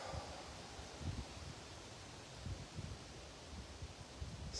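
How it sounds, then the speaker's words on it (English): Soft wind blowing outdoors, a quiet steady rush with low gentle buffeting swells against the microphone, faint and continuous with no voices. "the intensity of the wind that I'm feeling now"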